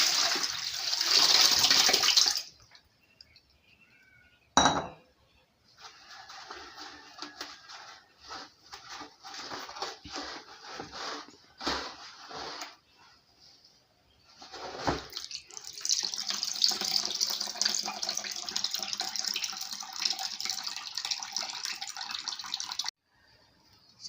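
Watery pouring and straining as blended ginger mixed with about a liter of water is filtered, a steady liquid rush broken by short pauses and a sharp clunk, then a longer continuous flow near the end.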